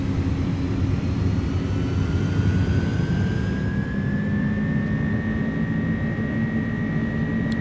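Steady roar of iniBuilds A300 jet engines at takeoff power in MSFS2024, a loud continuous drone with a slowly rising whine layered over a low rumble.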